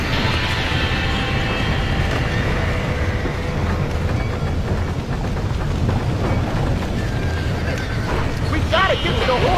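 Horses whinny amid a chaotic Red Dead Redemption gunfight scene, with dense shouting voices, rumbling train-like noise and hoofbeats filling the mix throughout; a rising neigh stands out near the end.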